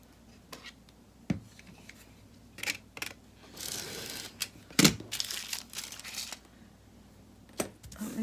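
Scissors snipping through thin greaseproof paper at a crafting table, with crinkling and rustling of the sheet between a few sharp cuts, close and quiet with no voices.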